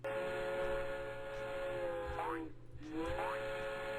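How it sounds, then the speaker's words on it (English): A train whistle or horn sounds in a game's train noise, a faint, steady tone held under a constant hum, with two short swoops near the middle. "What a shitty train noise"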